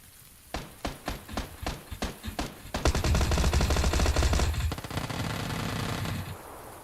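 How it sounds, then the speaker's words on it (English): Gunfire in an online shooter game: a string of about ten evenly spaced shots, then a dense, loud burst of rapid automatic fire lasting a few seconds before it thins out, heard close with no talk. "Some shooting across the street here"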